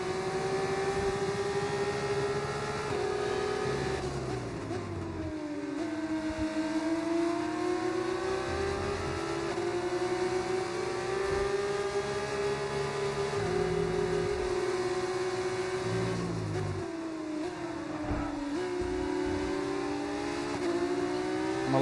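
Formula 2 race car engine in a racing video game, a steady high whine that sweeps down and back up as the driver lifts off the throttle into a corner and reaccelerates, loud and continuous with no talking.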